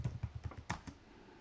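A short, quiet burst of keyboard typing, about eight quick key clicks in an uneven rhythm.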